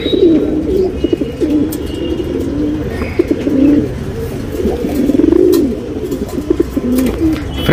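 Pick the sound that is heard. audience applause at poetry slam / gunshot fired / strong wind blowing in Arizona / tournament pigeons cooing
tournament pigeons cooing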